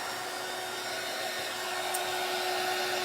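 A hair dryer blowing on small globs of acrylic paint on a canvas, a steady, loud, continuous whooshing hum that stays close and unchanging throughout, with no talk.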